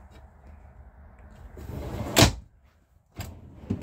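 A solid wood dovetail drawer in a Chinook Maverick EB B+ motorhome slides and thuds shut with a quick knock, followed by a second softer bump, close and without talk.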